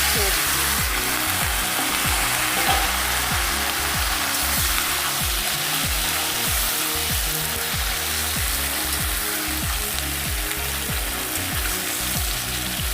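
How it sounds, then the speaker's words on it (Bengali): Vegetables fry in oil with panch phoron in a pan, a loud, steady, dense sizzle running throughout with a rhythmic scraping of stirring underneath, no voices. "সবজিটা দিয়ে আমি খুব সুন্দর করে একটু ভেজে নেবো"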